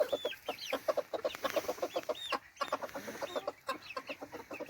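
Chickens in a backyard garden flock clucking and chattering in a busy, overlapping chorus, close by and fairly quiet, with quick repeated calls from several birds at once.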